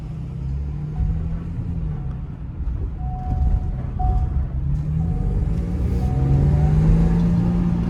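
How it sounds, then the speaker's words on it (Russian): A petrol Ford car driving on the road, with steady low engine rumble and road noise throughout, building slightly toward the end, heard from inside the car with no talk. "Хороший бензиновый Ford, едет просто прекрасно, просто."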